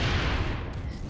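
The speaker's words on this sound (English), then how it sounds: "Oh, geez, a grenade." A grenade blast in the Roblox shooter Phantom Forces, a loud rumbling boom filling the brief moment with low, dense noise and no talk.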